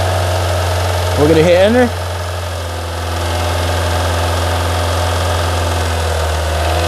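A car engine idles with a steady low hum and then rises to about 2500 RPM during a battery test with a handheld tester, a brief revving swell under a voice before settling back.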